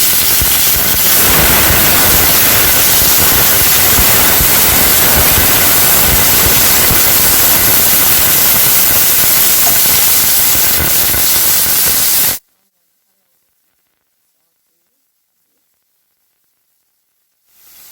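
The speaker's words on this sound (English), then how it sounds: "So I'm gonna allow this to saute a bit before adding the ackee and saltfish." Seasoning vegetables, sweet pepper and tomato, sizzle loudly in hot oil for a Jamaican ackee and saltfish dish, giving a steady dense hiss that cuts off abruptly into near silence before a faint return at the end.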